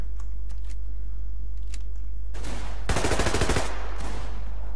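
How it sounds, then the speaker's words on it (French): Gunfire in the online shooter game Survarium, faint scattered distant shots followed by a burst of rapid automatic fire, over a constant low hum. "c'est qui tire là depuis tout à l'heure?"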